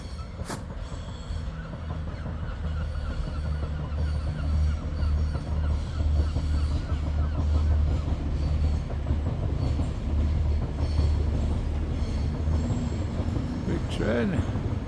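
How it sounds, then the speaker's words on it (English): A train passes on the railway near York, a steady low rumble with rolling wheel clatter and a brief high wheel squeal near the end, heard from a riverside path with light outdoor background. "Train."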